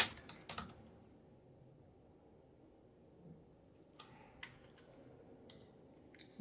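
Scattered keystrokes on a computer keyboard while accounting entries go into Tally, a few quick clusters of clicks near the start and more spaced taps later, light and close over a faint background hum.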